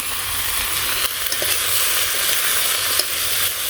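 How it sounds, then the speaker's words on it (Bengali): Salt, chili powder and turmeric are sautéed in oil in a pan, giving a loud, continuous sizzle with stirring scrapes and a few sharp clinks, and no voices. "একটু কষিয়ে নিই।"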